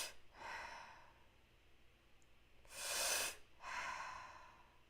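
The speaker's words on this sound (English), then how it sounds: "So I do it like as if breathing through a straw." Slow, close breathing drawn in and let out as if through a straw, four airy breaths in a steady rhythm, the third louder and harsher than the rest.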